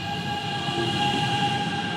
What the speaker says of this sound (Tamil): கரண்டில் ஓடுற ட்ரெயின் இந்த பாருங்க மேலே தெரியுது